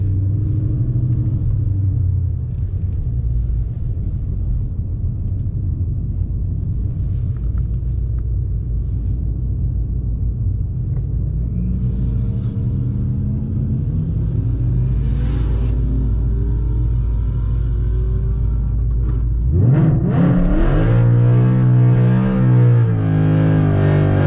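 A 2013 Ford Mustang Boss 302 with a Whipple supercharger idles with a deep, loud rumble, then revs up. Near the end the tires spin hard in a roaring burnout as the engine climbs and wails.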